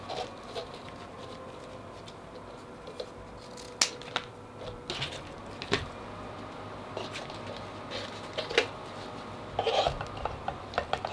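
Scissors snip through the end of a thin, slick, windbreaker-like ribbon while making a bow, giving a few sharp, close cuts spread over the span against a quiet background.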